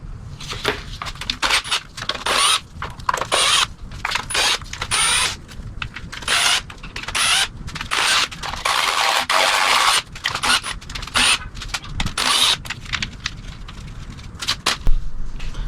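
A hand ratchet loosening 10 millimeter valve cover bolts on a BMW E30 engine, quick close clicking strokes in repeated short bursts with brief pauses between bolts.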